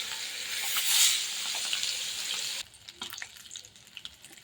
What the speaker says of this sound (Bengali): এভাবে দিয়ে মাছগুলো একটু ভেজে নেব।